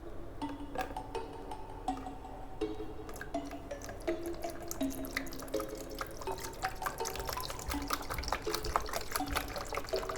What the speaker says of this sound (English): We're gonna need cranberry juice first. Let's add some.